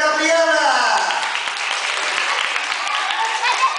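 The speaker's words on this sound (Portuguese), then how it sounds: "Palmas para a Gabriela!" An audience claps for a child named Gabriela at a magician's show, steady applause that starts under a speaking voice and continues alone once the talk fades.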